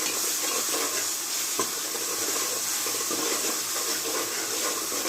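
Steady, loud sizzling as ginger garlic paste is sautéed in a hot pan for a raw banana and dried fish stir-fry, with faint stirring scrapes through the continuous frying hiss and no talking.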